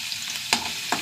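Coconut pieces fry in a pan alongside cashews and raisins for a Kerala festive dessert, a soft steady sizzle broken by two sharp clatters of stirring, close and with no voices.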